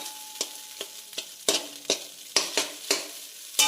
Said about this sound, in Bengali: আর দিয়ে ভালো করে এবার আমি মিক্স করে নিলাম